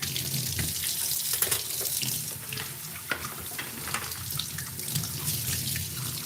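Kitchen faucet running steadily into a sink while dishes are rinsed, a close continuous splashing rush with occasional clinks and shifts in the water flow.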